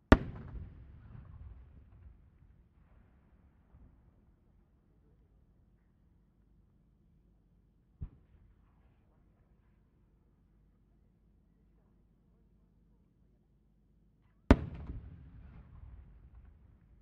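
Fireworks shells at the Sanriku fireworks festival competition: a sharp burst opens, a single crack sounds midway, and another loud boom follows near the end, with crackling tails and long quiet gaps between.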